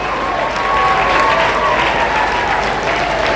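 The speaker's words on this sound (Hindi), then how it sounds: "खड़े होकर एक बार तालियां बज जाए।" An audience stands and applauds at a school's annual function. The clapping is loud, dense and steady throughout, with a crowd murmur underneath.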